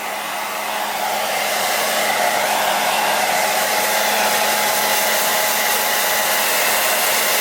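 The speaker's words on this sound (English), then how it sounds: "You don't need to worry about burning your garment, it's a hairdryer" A hair dryer blows continuously to melt wax into a cotton G-1000 outdoor garment, a loud, steady, close-up whoosh and motor whine that holds unbroken throughout, with no talking.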